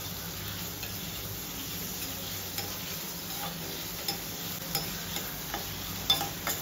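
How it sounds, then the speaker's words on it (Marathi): Two finely chopped onions fry with black pepper in a pan for kaju curry, a soft, steady sizzle with occasional light spatula taps, fairly quiet. "यामध्ये मी बारीक चिरलेले 2 कांदे टाकणार आहे आणि छान रंग बदलेपर्यंत कांदा असा परतून घ्यायचा आहे"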